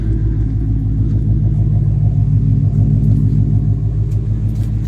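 A Ford Mustang's engine rumbles at a steady, deep idle, close and continuous for the whole stretch with no voices.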